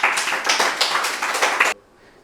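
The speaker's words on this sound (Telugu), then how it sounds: "గురువులందరికీ ఒకసారి గట్టిగా క్లాప్ చేసుకుందాం." A crowd at a meditation gathering claps vigorously for its gurus, a dense, loud burst of rapid clapping that stops abruptly after under two seconds, leaving quiet room tone.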